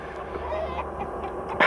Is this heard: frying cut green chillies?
no